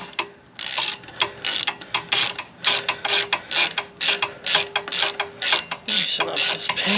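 A 5mm Allen wrench loosens the rear brake pin on a 2007 Harley-Davidson Sportster, giving a close, steady run of rapid ratcheting clicks in short repeated bursts.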